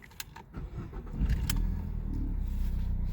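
A car engine cranks and catches after a few clicks and rattles, then settles into a steady low rumble up close.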